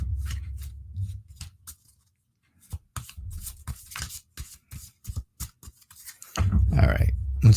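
Tarot cards being shuffled by hand, a run of quick papery riffles and flicks in short bursts with a brief pause, ending in a louder rustling flurry, close and alone.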